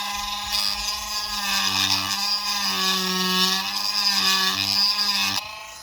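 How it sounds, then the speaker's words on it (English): A Dremel rotary tool grinds down the plastic housing of a Wahl KM clipper, a steady high-pitched whine running close and loud, with lower pitch dips as it bites into the material, then cutting off at the end. "take your Dremel and just shave those out"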